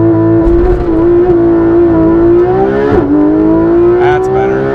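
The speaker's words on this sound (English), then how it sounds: "press the brake down, mash the throttle all the way to the floor" A Porsche GT3 RS with PDK gearbox launches at full throttle, its engine roaring loud and close with a steadily climbing pitch, a brief dip as it shifts, then pulling hard again.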